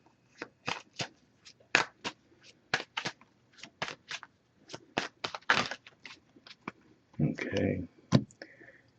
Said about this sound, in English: we'll give it a few more shuffles to cut the deck and pull a card.